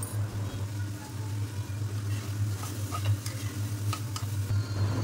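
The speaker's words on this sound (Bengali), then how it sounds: "সেগুলো দিয়ে নাড়াচাড়া করে ভালো করে চিকেনটাকে বানিয়ে নেব এবং সেদ্ধ করে নেব" Chicken with Indian spices stirred and cooked in a home pan, a low constant sizzle with intermittent scraping stirs near the end, under a steady low hum.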